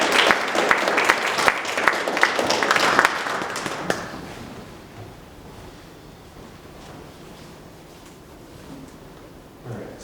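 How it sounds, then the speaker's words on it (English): An assembly audience gives a round of applause, dense and fairly loud for about four seconds before fading to quiet room noise with a few scattered claps. "Give one more round of applause for Mary."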